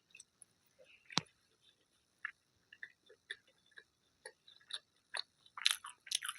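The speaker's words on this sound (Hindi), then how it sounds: "फर्स्ट बाइट आपके लिए" Someone bites into and chews moong dal sabji with veg pulao and papad, making soft, close, intermittent crunches and mouth sounds that include one sharp crisp bite, with quiet murmurs in between.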